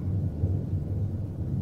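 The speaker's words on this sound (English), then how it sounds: "It was a dark and stormy night" A thunderstorm sound effect for a spooky Halloween night scene, a deep continuous low rumble of thunder rolling steadily without a break.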